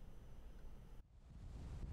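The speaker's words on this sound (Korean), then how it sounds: "바람이 휘몰아치고 파도가 심하게 일렁입니다." Strong gusting wind and heavy waves on the Taean coast, a faint roaring rush of wind and surf that briefly drops away and then swells back, with no voices.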